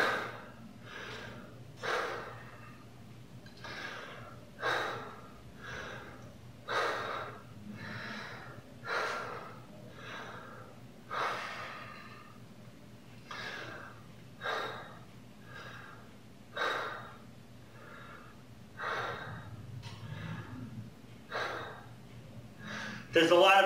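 Heavy, rhythmic panting after a set of double kettlebell exercises, with about a dozen loud close gasping breaths roughly every one and a half seconds, each followed by a softer exhale.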